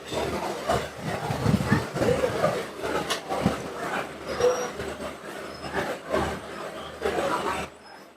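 A passenger train runs on rails between Dimapur and Jorhat, heard from inside a coach: a continuous rumble with rhythmic wheel clatter and occasional squeals and knocks. No one speaks.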